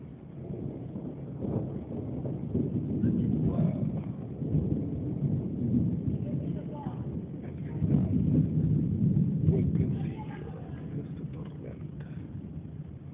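Thunderstorm in Chicago on a July evening, a steady broad rumble of wind and distant thunder rolling on throughout, swelling loudest in two long surges, with no clear voices.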